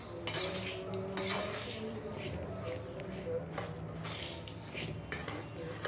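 A spoon scrapes and clinks against a pan while mixing a sugar and semolina karanji filling, repeated metallic taps and scrapes under a speaking voice.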